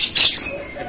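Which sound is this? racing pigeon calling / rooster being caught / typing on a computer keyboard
racing pigeon calling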